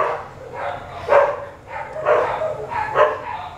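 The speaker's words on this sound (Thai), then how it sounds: "ถ่ายกลางวันมันก็เห่า ถ่ายกลางคืนมันก็เห่า" Dog barking repeatedly in a steady rhythm, roughly four to five hoarse barks spaced about a second apart, moderately close and loud against a quiet background.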